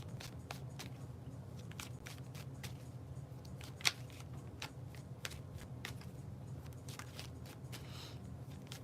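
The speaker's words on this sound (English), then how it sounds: "We're going to get into the bridge shuffle, I think." Tarot cards being bridge shuffled, a run of soft rapid riffling clicks and taps with one sharper snap partway through, close and quiet, no talk.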